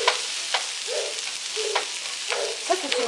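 Courgette sautés in a hot pan, giving a steady, close frying sizzle, with a few soft scrapes of stirring scattered throughout.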